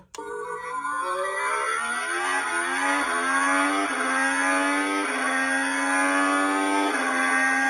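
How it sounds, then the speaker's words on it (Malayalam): A Maisto Formula 1 remote-control toy car plays a loud, electronic racing-engine effect: a high whine that climbs and falls through repeated gear-shift revs, alone and close. "ഇതിൽ എൻജിൻ സൗണ്ട് ഉണ്ട് പറഞ്ഞിട്ടുണ്ട്."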